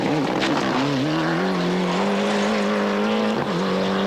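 A rally car at the 1996 Rallye des Géants in France slides on gravel, its engine droning loudly with rising and falling revs and flung gravel spraying.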